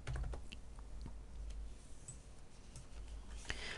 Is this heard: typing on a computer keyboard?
yes